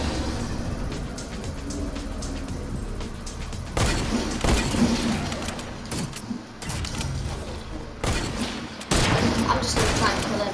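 Gunfire from a hunting rifle in a shooter video game comes in a series of sharp, loud cracks, two or three close together, over constant game background noise.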